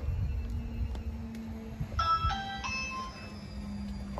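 Doorbell chimes at a guitar workshop: a short, bright sequence of ding-dong tones rings out in the middle of the moment over a low background hum, moderately loud and near.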